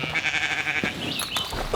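Sheep bleating on a farm during weaning, one drawn-out, wavering bleat followed by a shorter call, close and loud.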